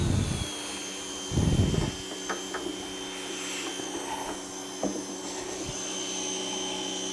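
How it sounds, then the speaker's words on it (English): Power washer spraying water inside a motorcycle gas tank to clear out rust, a steady loud hissing roar with a few brief louder bursts as the spray shifts, running continuously without talk. "let me get the power washer set up"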